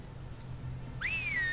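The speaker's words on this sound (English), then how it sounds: "Now purse those lips and whistle." A whistle used to lure enemies in the video game Stubbs the Zombie: after a low quiet background, a short clear whistle rises and then holds a steady wavering tone near the end.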